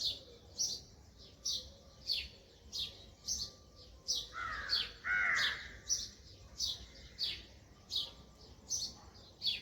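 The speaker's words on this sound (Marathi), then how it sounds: "मागे चिमण्यांचा आवाज किती बाहेर येते" Sparrows chirp in quick, repeated bursts at a nearby distance, with a louder, harsher call breaking in briefly midway.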